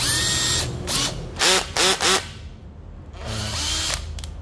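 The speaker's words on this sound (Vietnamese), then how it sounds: "cây khoan hai chức năng, cây Makita hai chức năng" Makita 458D two-function cordless drill whirring in several short bursts of rising and falling pitch, close and loud, with a quieter stretch between and another run near the end.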